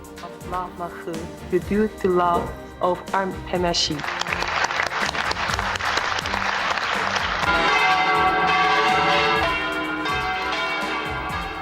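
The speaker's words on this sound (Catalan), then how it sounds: "El repicar de les campanes" Church bells ring out at a festival in a dense, continuous clangor amid crowd noise and cheering, after a few separate strikes at the start.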